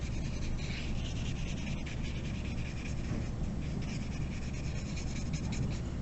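A brush sweeps watercolor across paper in steady, continuous soft scratchy strokes, close and quiet, with no talking.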